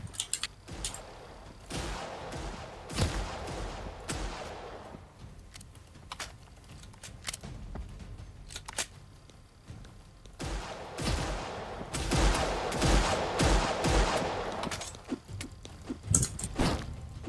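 Bursts of gunfire in a Roblox shooting game come in short clusters of quick cracks and rattles, moderately loud, separated by quieter stretches with no talk.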